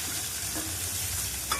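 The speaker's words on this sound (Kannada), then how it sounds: "ಮತ್ತು 7-8 ಕರಿಬೇವು ಎಲೆ, ಆಮೇಲೆ 1 ದಪ್ಪಮೆಣಸಿನ್ಕಾಯಿ ಕ್ಯಾಪ್ಸಿಕಮ್ ಹಾಕಿ ಫಸ್ಟ್ ಸಲ ಮಿಕ್ಸ್ ಮಾಡ್ಕೊಡ್ತೀನಿ" Capsicum and curry leaves frying in a pan as they are stirred, giving a steady close hiss and sizzle with soft scraping, and no voices.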